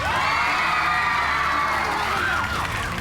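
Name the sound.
children cheering and clapping for the Blue Team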